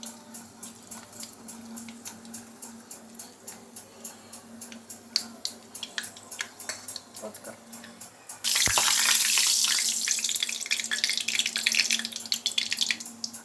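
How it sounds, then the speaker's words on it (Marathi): Mustard seeds crackle and pop in hot oil in a kadhai while a tempering is made for kadhi. Steady sharp pops build for several seconds, then a sudden loud, sustained hissing sizzle takes over. "मोहरी चांगली फुटल्यानंतर आपण त्याच्यामध्ये टाकणार आहोत जिरे।"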